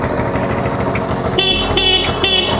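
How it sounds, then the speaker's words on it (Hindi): A motorcycle horn running off a capacitor in place of a dead battery honks in two or three loud, close bursts over a steady engine idle. "अभी आपको मैं इसका जो हॉर्न है वो भी चला के बताता हूँ।"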